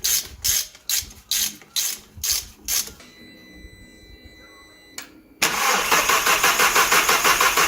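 Ratchet wrench tightening the battery terminal on a VW Golf MK6 GTI during an EA888 engine swap: quick rhythmic clicking bursts, then a short pause and a steady engine-like whir near the end.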